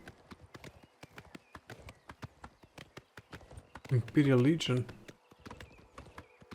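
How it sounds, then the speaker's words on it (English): Horse hooves clip-clop steadily in a fast rhythmic series within the Oblivion Remastered game world, with a horse whinny rising loudly partway through; a person talks over the hoofbeats throughout. "It's a horse."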